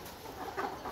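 Caged laying hens cluck softly on a farm, a low, steady murmur of fowl with a couple of slightly louder bursts, moderately distant and continuous through the moment.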